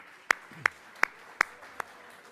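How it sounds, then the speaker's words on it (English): Five sharp, evenly spaced claps ring out at an awards ceremony, isolated single hand-claps rather than full crowd applause, each loud and crisp against a quiet room. "Give them a round of applause."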